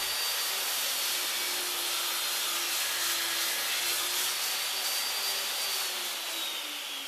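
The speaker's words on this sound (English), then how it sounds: "it is just a matter of running the board through the saw" A table saw cuts through a wooden beehive body end board, a loud, continuous high whine of blade against wood holding steady throughout and easing slightly as the cut ends.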